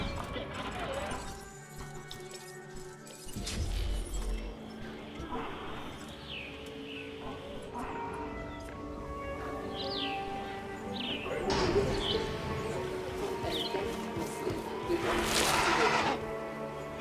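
Gallimimus dinosaur calls in Jurassic World Evolution, a string of short, bird-like chirps and squawks over a busy game soundscape with thuds and clattering, moderately faint.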